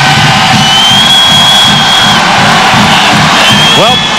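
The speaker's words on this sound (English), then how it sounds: "great crowd here at the Fieldhouse" A packed basketball crowd roars and cheers at the Fieldhouse during a Detroit home game, a dense, sustained wall of voices with whoops and yells that stays loud throughout, whistles of noise rising near the end.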